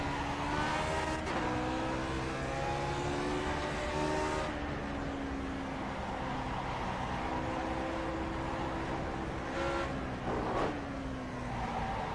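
Race car engine in iRacing at Mosport, droning steadily with rising and falling pitch through gear changes and shifts, loud and continuous throughout with no talk over it.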